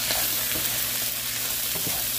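Shrimp frying in a pan sizzle with a steady, loud broadband hiss, broken by a few soft pops and crackles over a couple of seconds, with no voices.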